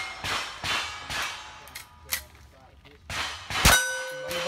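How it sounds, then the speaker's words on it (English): Rifle shots ringing off a blue steel target, with several gunshots followed by a sharp metallic clang and a lingering ding as the plate rings out. "Okay, rifle, one on the blue target."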